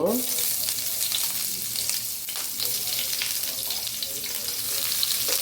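Okra (bhindi) fries with cumin and onion in a pan, a loud, dense sizzle that holds steady throughout with scattered crackles and occasional stirring.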